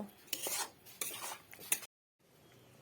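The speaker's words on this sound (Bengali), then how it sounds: "হলুদ গুঁড়ো জিরে গুঁড়ো ধনে গুঁড়ো আর পরিমাণ মতো নুন দিয়ে ভালো করে নাড়িয়ে নেব" A spoon scrapes and stirs chicken with turmeric, cumin, coriander powder and salt in a pan, three rough strokes against the metal, close and clear, then a short pause.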